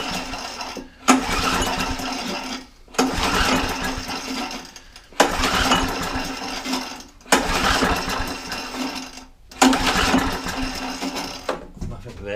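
Hayter Hayterette lawn mower that sat unused for over two years being cranked in a workshop. Five long, loud chugging pulls come one after another with short pauses between them, and the engine catches faintly at one point.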